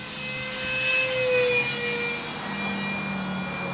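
An electric F-86 Sabre park flyer model jet with stock motor and ESC whines steadily overhead, rising and fading slightly as it passes at a moderate distance, alone with no talk.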